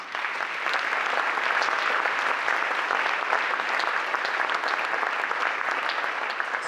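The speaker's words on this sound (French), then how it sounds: "Je vais vous demander d'applaudir les deux." Sustained audience applause at a mayor's New Year greetings event in Gournay-sur-Marne, a steady, even wash of many hands clapping throughout without pause.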